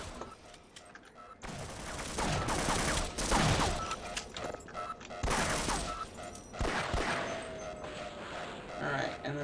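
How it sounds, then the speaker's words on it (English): Gunfire in Half-Life comes as several separate bursts of shots with crashing impacts, fairly close, and a person talks over the action between and during the volleys. "And then I'm gonna shoot these."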